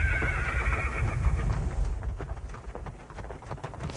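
A horse at a training stable gives a neigh near the start, with hoof clip-clops and rough outdoor noise running under it throughout.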